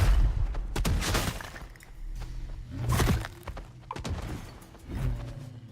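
Gunfire in the open-world western game Legend of California, a series of sharp, loud shots and thudding impacts arriving in irregular bursts, each followed by a short decay, with no talking.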